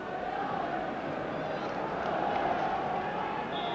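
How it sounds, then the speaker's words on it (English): Huge football crowd roaring inside Ibrox stadium at a 1989 Scottish Cup tie between Rangers and Raith Rovers, a steady dense wash of massed voices filling the whole clip without breaks. "So the customary huge crowd inside Ibrox, the stadium an absolute cauldron of noise"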